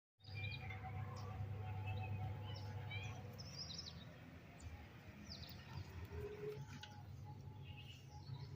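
Pigeons coo softly around a rural Punjabi mud house, low steady cooing mixed with scattered bird chirps in a quiet outdoor setting.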